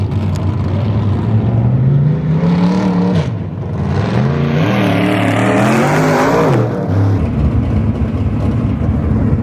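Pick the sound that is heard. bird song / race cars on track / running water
race cars on track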